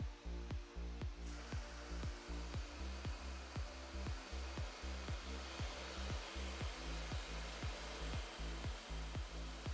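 A 1200 watt hair dryer runs steadily, its fan producing a loud continuous whooshing hiss with a strong low hum and a fast regular pulsing throughout, alone and close up.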